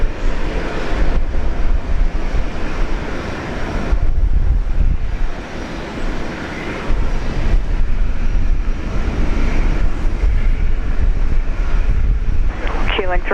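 A jet airliner takes off from runway 01 right at Brisbane Airport, producing a sustained, broad engine roar with wind buffeting on the microphone that dips briefly and then builds again.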